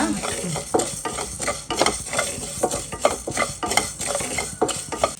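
Mutton boti (tripe) fries in a pan with curry leaves while a utensil stirs it in repeated scraping strokes over a constant close sizzle, with no talking.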